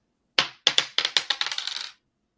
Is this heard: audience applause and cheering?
no